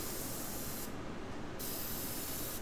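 An airbrush sprays paint in a steady, close, continuous hiss that briefly thins for a moment and then resumes at full strength, with no talking.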